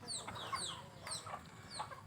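Chickens clucking at home, a few birds giving repeated short clucks and calls close by, with no talk over them.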